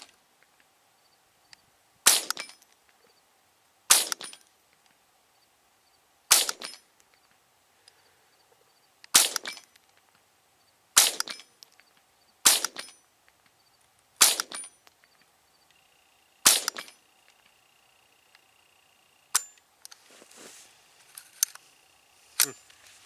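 Shots from a Savage 64 Takedown rifle ringing off steel targets out in the desert at about 40 to 50 yards: nine or ten sharp cracks, each with a short metallic ping, spaced a couple of seconds apart.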